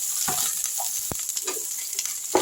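Raw onion frying in a pan of cumin-tempered oil for a masoor dal with vegetables, a steady close sizzle with a few soft stirring clinks and scrapes.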